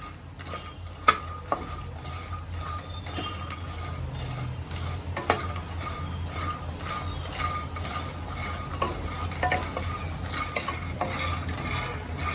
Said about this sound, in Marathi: चार ते पाच मिनिटं चांगले स्लो गॅसवर रोस्ट करायचं आहे